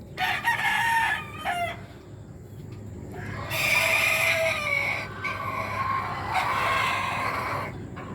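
Backyard chickens with a rooster crowing several times, drawn-out calls mixed with clucking over a steady rural background hum.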